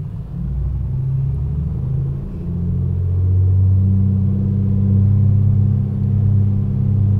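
Piper PA-24 Comanche 250 piston engine in Microsoft Flight Simulator running up to 2000 RPM, a loud steady low drone that swells slightly as the throttle rises and then holds, with no talk.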